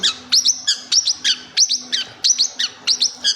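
A small pet Forpus parrotlet chirps repeatedly up close, bright rising tweets in quick, steady bursts with no one speaking.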